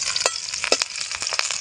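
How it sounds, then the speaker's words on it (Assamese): Chopped onions frying in a pan, a steady close sizzle broken by several sharp stirring scrapes and clatters spaced irregularly across the short stretch, with no voices. "ভাজি লোৱা হ'ব অলপ পিঁয়াজখিনি"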